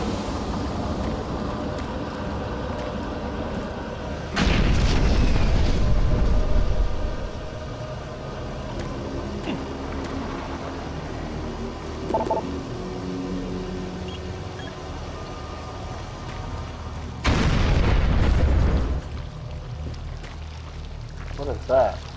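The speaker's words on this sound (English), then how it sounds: "What are those explosions going on?" Explosions in the video game Doom 3, two heavy low rumbling blasts a dozen seconds apart, each lasting about two seconds, standing out over a droning ambient background with a voice talking.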